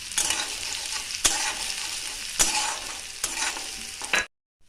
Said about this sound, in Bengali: 15 কোয়া রসুন আর 2টো কাঁচা লঙ্কা ফোড়ন দিচ্ছি